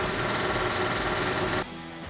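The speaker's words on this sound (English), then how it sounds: "Alexa, turn on the exhaust." Workshop exhaust fan running with a steady broadband whir and hum, close and fairly quiet, its pitch and level dropping abruptly near the end.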